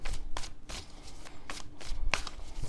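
Tarot cards shuffled by hand, a series of crisp riffling bursts in an irregular rhythm, close and clear, with no talking.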